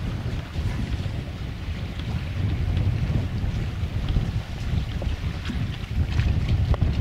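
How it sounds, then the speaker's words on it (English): Wind blows off the land across a cruising yacht lying at anchor off Inver Bay, a steady low rumble of gusts against the microphone with faint water lapping beneath, unbroken by voices. "the wind blowing off the land"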